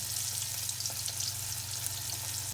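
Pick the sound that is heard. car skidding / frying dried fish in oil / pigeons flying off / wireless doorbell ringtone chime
frying dried fish in oil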